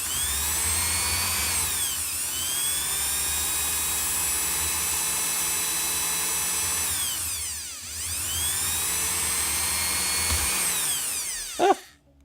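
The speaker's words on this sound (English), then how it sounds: "the drill went through" A power drill bores steadily through an electronic device packed with wires, a loud continuous whine holding for about eleven seconds with a brief dip midway, then a sharp final burst as the bit breaks through before stopping.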